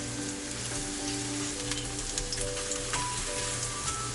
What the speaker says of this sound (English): Let it sizzle for 3 minutes.